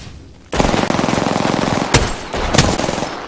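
Automatic gunfire in the video game Apex Legends breaks out suddenly after a quiet moment and runs as a loud, sustained rattling burst with a couple of brief sharp peaks.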